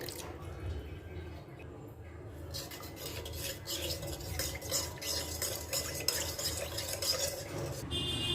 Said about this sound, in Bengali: সামান্য জল দিয়ে সব কিছু ভালো করে মিশিয়ে নিব